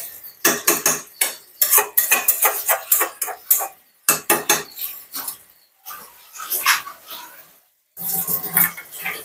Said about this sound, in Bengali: একটু মাংসটা কষানো হচ্ছে এদিকে